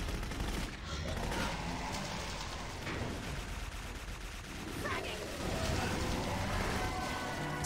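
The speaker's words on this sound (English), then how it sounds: "can I shoot this one up here?" Gunfire from the video game Clive Barker's Jericho rattles in quick, dense bursts, fairly faint and mixed with other game noise under occasional talk.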